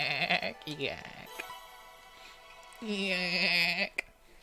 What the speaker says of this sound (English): It's a yak.